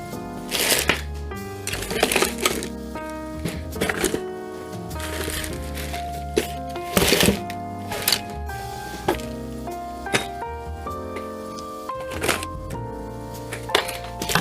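Hands rummaging through an old pencil box, with repeated clattering, rattling bursts of small objects knocked and shuffled around at close range, coming in irregular clusters with short pauses between them.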